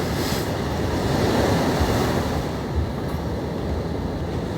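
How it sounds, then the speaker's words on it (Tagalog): Sea waves wash steadily onto a beach, a continuous broad rushing with faint wind buffeting the microphone and no distinct breaks. "Dagat yan for sure."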